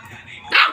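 A dog at home gives one sharp, close bark near the end, after a brief quieter stretch.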